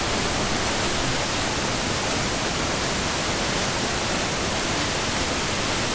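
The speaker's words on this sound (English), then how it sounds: "When you can feel the mist hitting you in the face, you know it's a good waterfall." Waterfall roaring at Blackwater Falls State Park, West Virginia: a dense, steady broadband rush of falling water, loud and close, unbroken throughout with no voices.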